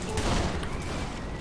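A gunshot headshot in Saints Row: The Third Remastered, a single sharp crack at the start followed by a short rumbling tail and lingering game ambience, loud and close.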